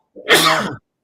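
A single sharp human sneeze, close and loud, with a quick intake breath before the explosive burst that ends abruptly within about a second.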